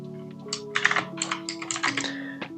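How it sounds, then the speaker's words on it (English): Fast typing on a computer keyboard, a dense run of quick clicking keystrokes close to the mic over a steady low hum, with no talking. "Sorry, fast typing."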